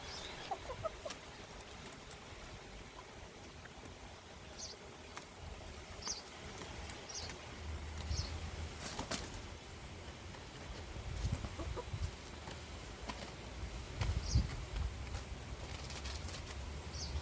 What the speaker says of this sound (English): The chickens pecked through the wide holes in the plastic netting.